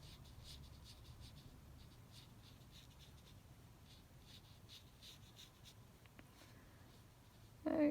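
Soft, steady scratchy strokes of an Arteza watercolour pen colouring in shapes on paper, faint and close, with a sharper knock near the end.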